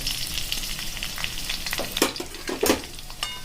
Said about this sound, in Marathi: इथं आपल्या छान प्रकारे मिरची फ्राय करून घ्यायची आहे